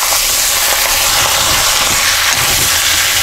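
Oil heating in a hot wok for a cheese steak stir fry, a loud, steady, broad sizzling hiss held throughout at close range, with no voices.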